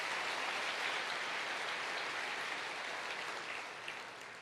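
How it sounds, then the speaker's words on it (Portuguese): A church congregation applauds in a sustained, dense roar of clapping that holds steady and then eases slightly toward the end, with no voices rising above it. "Dê um aplauso ao Senhor Jesus."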